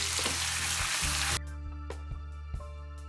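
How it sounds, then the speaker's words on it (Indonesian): Shiitake mushrooms and meat sauté in a pan for a bakcang filling, giving a loud close sizzle that cuts off after about a second and a half, followed by a low hum and a few light clicks. "kita peras airnya keluar dan kita masukkan, tumis sekalian ya"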